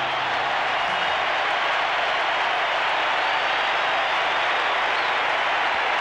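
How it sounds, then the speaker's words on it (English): Football crowd at a 1987 AFL semi-final between Melbourne and Sydney applauds steadily, a dense continuous roar of clapping from a large stadium audience throughout. "The applause from the crowd as Robert Flower is taken off the ground."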